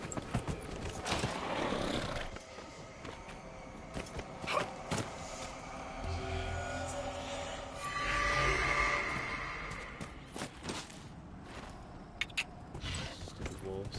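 A horse gallops in the video game Dragon Age Inquisition, with steady clip-clop hoofbeats over a rushing wind-like bed and occasional sharper creaks and knocks, moderately loud throughout.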